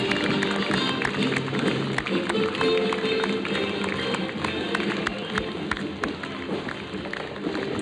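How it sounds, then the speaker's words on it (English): Parade crowd applauding and cheering as a US Marine Corps float passes at Tulip Time: steady, close clapping that runs throughout, with sharp individual claps, crowd noise and a brief voice mixed in. "Let's listen to the applause for these guys as this float comes by."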